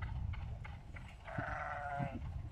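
A goat bleats once in a desert setting, a drawn-out, wavering cry rising over a steady low rumble of wind or engine noise, with a couple of short soft sounds before it.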